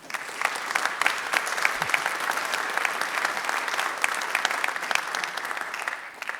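A room of people at a technical talk claps for a speaker, crisp close handclaps building into a sustained, fairly loud round of applause that holds steady before ending.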